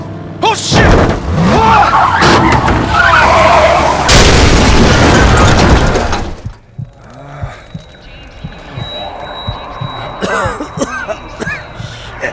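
A loud truck crash in the video game Into the Dead 2, with crunching impacts and a heavy boom, followed by quieter rattling debris and scattered knocks as things settle.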